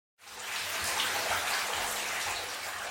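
Tap water gushes into a bathtub, starting abruptly and then holding as a steady, loud, close rushing splash.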